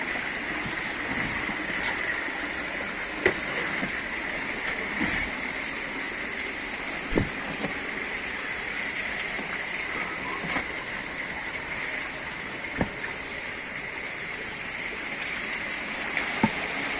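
Water flows at a mill in a steady, faint rushing hiss that lasts throughout, with a few sharp clicks scattered through it.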